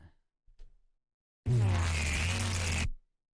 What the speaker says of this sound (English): that's how it gives it that sort of bendy feel to it,